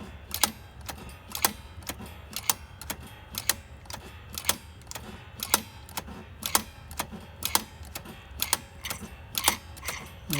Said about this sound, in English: you can hear it and see it's sucking air down there